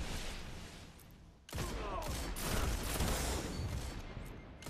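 Gunfire from an online shooter match, the Control mode of Defender, crackles in dense overlapping bursts after a brief lull, loud and continuous like a chaotic firefight with no speech.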